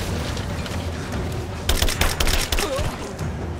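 Burst of rapid gunfire from the video game Rise of the Tomb Raider, a cluster of sharp loud shots in the middle of steady in-game ambience, with no talk over it.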